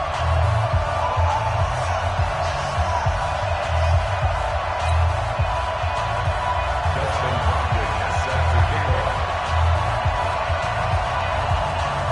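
A stadium crowd roars steadily in an EA Sports NFL video game during a Chicago Bears versus New York Giants matchup, with a commentator's voice talking over the constant crowd noise.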